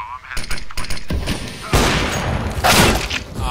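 Gunfire in a CS:GO round on de_cache, with bursts of rapid shots followed by loud sustained firing and blasts, with a voice talking over it.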